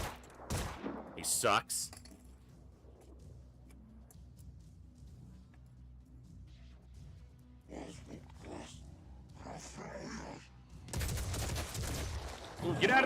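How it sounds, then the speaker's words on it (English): Gunfire in the video game Phoenix Point, heard as brief bursts of shots at the start and a louder volley near the end, with a player talking over quiet stretches in between. "He's gonna shoot at me."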